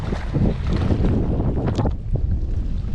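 Strong gale-force wind roars and buffets continuously across a microphone on a fishing kayak out on open water, loud and gusting throughout with no speech.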